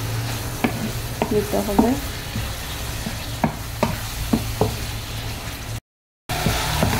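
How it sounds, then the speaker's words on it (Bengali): Small pieces of dried hilsa fry with spices in a pan, a continuous sizzle punctuated by spoon knocks and scrapes while being stirred; a brief spoken phrase sits over it and the sound cuts out for a moment near the end. "ইলিশ শুটকিটাকে ভালো করে কষিয়ে নেব। মশলার সাথে খুব ভালোভাবে কষিয়ে"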